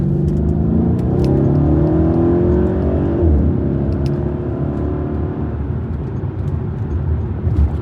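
A 2012 Mercedes E63 AMG wagon accelerates hard. Its engine note climbs loudly through the revs inside the cabin, then drops and settles into a lower, steady drone.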